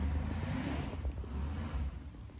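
Distant Holden Commodore beater car rumbling low and steady with wind noise over the microphone, its deep engine drone building faintly as it approaches down the road.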